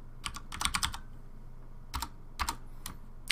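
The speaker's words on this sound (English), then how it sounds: "let's type in the problem" Computer keyboard typing in Excel, short bursts of crisp key clicks, a rapid flurry first then a few scattered taps, close and alone.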